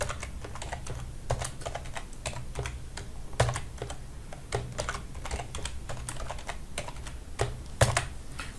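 Keys tapped on a computer keyboard while a password is typed during Windows Server 2012 setup, a close run of quick, uneven clicks with brief pauses and no voices.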